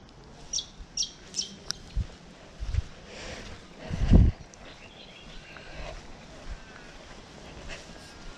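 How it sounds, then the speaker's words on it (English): A bird gives a short series of sharp, high chirps near Herdsman Lake at sunset, followed by wind rumbling against the microphone and scattered outdoor noise. "I've never seen that bird before."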